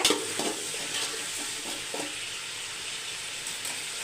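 Vegetables fry in a pan with a steady hiss of oil and sizzle while a utensil stirs through them, adding soft scraping strokes at intervals, close and continuous.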